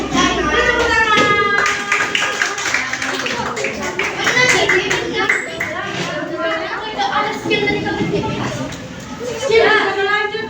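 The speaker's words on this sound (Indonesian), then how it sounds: "Beri tepuk tangan." Children clapping hands together in a classroom, a burst of rhythmic group claps mixed with a teacher talking and kids' voices chattering throughout.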